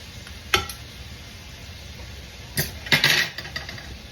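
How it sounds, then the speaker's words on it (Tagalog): Food sizzles steadily in a frying pan while a utensil stirs and scrapes it in a few short bursts against the pan, during dinner cooking with cheese and burger patties nearby. "Mix lang natin konti."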